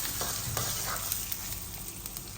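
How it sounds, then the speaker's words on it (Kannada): Cumin seeds and dried red chillies fry in hot oil with a close, steady crackling sizzle, with a few light stirring clicks over it. "ಜೀರಿಗೆ ಹಾಕ್ತಾ ಇದ್ದೀನಿ. ಈಗ ಒಣಮೆಣಸಿನ್ಕಾಯಿ ಹಾಕ್ತಾ ಇದ್ದೀನಿ. ಇದೆಲ್ಲ ಚೆನ್ನಾಗಿ ಹುರ್ಕೋಬೇಕು."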